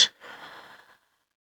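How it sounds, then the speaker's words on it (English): A single audible exhale during a yoga exercise, a soft close breath-out following a brief sharp onset, fading to silence within a second. "Breathing it all out."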